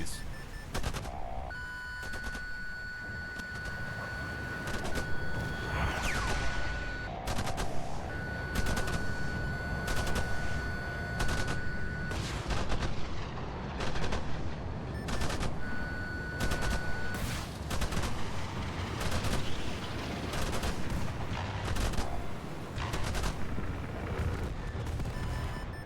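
Rapid bursts of gunfire in the War Thunder combat game, loud repeated volleys and chattering automatic fire broken by short gaps across about twenty-five seconds, with no talking.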